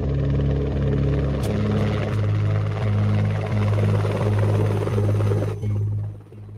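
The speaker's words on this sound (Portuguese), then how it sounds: "Todos os helicópteros do Exército estão sendo utilizados no resgate e auxílio à população" Army helicopters flying during a rescue and relief operation amid forest fires, their rotor thump loud and steady throughout with a deep pulsing drone, no voices.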